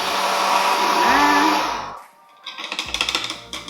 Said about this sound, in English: So we're gonna use this kind of handheld blender